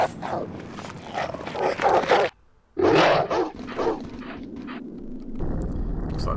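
Dogs in the video game Alone in the Dark 4 bark and yelp in loud bursts close by, with a brief silent gap, then a steady game ambience.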